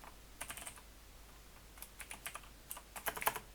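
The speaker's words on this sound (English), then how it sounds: "So I will type serialized property called item type" Quick bursts of keystrokes on a computer keyboard while code is typed in Unity, clustered in short uneven runs with brief pauses, close and fairly quiet.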